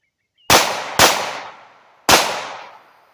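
Three loud, sharp gunshots at shooting practice ring out close by, the first two about half a second apart and the third after a longer pause, each with a decaying echo.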